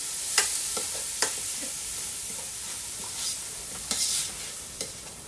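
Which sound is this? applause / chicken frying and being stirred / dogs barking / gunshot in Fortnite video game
chicken frying and being stirred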